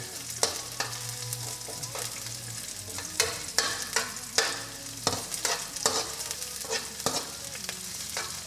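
Garlic sautéing in a pan for Kapampangan-style menudo, a bright crackling sizzle punctuated by regular scraping strokes of a spatula, close and lively, with no voices over it.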